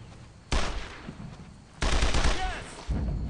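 Squad gunfire in the WWII shooter Brothers in Arms: loud bursts of rifle and machine-gun fire open at about half a second, then a heavier sustained volley follows and another burst joins near the end, with faint shouted orders mixed in.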